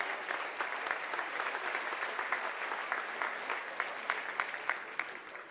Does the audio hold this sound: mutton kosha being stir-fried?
no